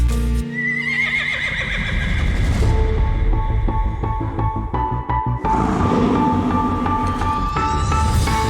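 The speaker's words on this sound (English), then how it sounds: "We got ourselves a fine-looking horse in the yard." A horse whinnies loudly and repeatedly in a yard, its neighs overlapping with hoof clip-clop and busy background sound, with no talking.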